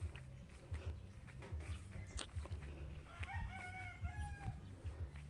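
Chickens at a backyard garden clucking and crowing nearby, a faint scatter of clucks with a short crow midway, under low rustling background noise.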